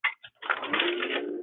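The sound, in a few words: Linotype typesetting machine turned on, mats dropping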